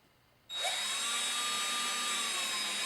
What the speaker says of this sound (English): So we go up to our mark, and we drill.